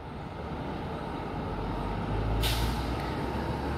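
Bus air brakes at the Natal bus station release a sharp burst of hiss over a steady low engine rumble and surrounding traffic noise, close and fairly loud.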